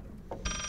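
Electronic telephone ring in the horror video game Layers of Fear, a short steady tonal ring beginning partway in and sustained to the end, loud and close over a low ambient drone.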